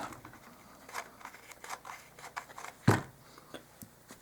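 Scissors snip through fabric being trimmed for a dollhouse miniature bed's mattress cover: a run of soft, close cuts, then one sharper, louder snip near the end, with no talking.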